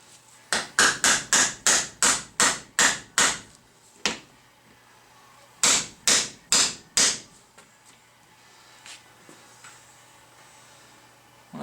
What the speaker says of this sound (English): then go chase down a hammer.